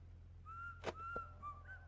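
In the Baldi's Basics video game, the Principal whistles clear, sliding notes, a short tuneful phrase with a couple of soft thuds under it and a low steady hum behind.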